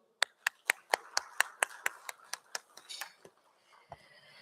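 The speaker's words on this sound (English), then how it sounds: "let us have a huge round of applause for Architect and Interiors India's Design Debate" A dozen or so sharp, evenly spaced claps ring out at a live design debate event in Chandigarh, loud at first and then thinning and fading, sounding like one or a few pairs of hands rather than a full audience.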